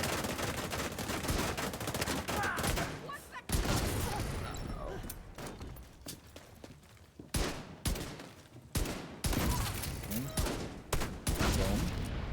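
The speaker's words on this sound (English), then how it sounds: "I'm loving the explosions" Explosions and gunfire in The Division 2, loud bursts of rapid shooting and heavy blasts coming in dense clusters with brief lulls between them, over a steady backdrop of game sound.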